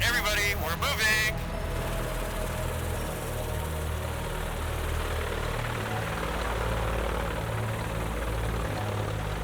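A small airplane's engine drones steadily as it taxis at the Compton Aero Club. A brief burst of voices comes first, then a constant mid-loud propeller hum.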